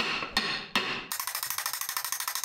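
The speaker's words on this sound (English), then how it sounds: "This hammer is too small. I need a bigger hammer." Metal hammering on a 9-inch differential housing while a 31-spline diff is fitted: two sharp, loud strikes, then a quick, even run of lighter taps continuing to the end, close up and without talk.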